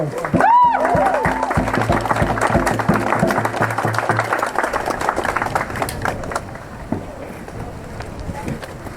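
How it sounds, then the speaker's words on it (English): A crowd at a Black Lives Matter protest in Wolverhampton claps outdoors, a busy burst of applause that gradually thins and fades, with wind rumbling against the microphone. "Give yourself a round of applause."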